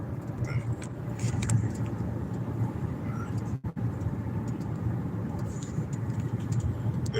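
Steady low engine rumble and road noise from a car driving home late at night, continuous and fairly close, with a brief dropout midway and no talk.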